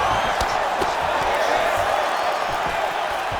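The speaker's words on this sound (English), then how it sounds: "And you hear the crowd react every time they come together." A virtual arena crowd in the fighting game EA Sports UFC 5 roars and cheers during a bout, a dense, steady wash of noise with sharp impact thuds from the fight cutting through it.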